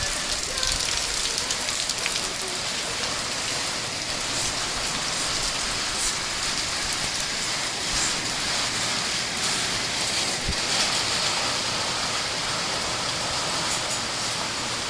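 Steady rain patters densely on a surface, a constant hiss with occasional louder drops, continuous for the whole stretch.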